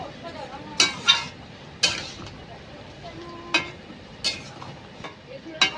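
Cauliflower and potato curry with egg being stirred in a pan, sugar just added, giving soft intermittent scrapes and spoon knocks against the metal over a faint sizzle, with a few sharper clinks spaced a second or so apart.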